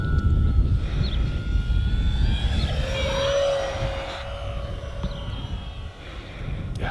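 E-Flite F4U Corsair 1.2 m RC warbird flies overhead outdoors, its electric motor and propeller making a continuous whine that rises in pitch and swells as the plane passes, under steady wind rumble.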